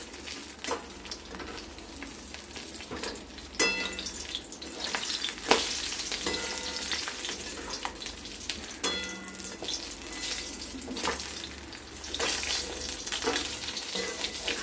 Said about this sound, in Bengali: আর এদিকে মাছটা ভাজা হতে থাক।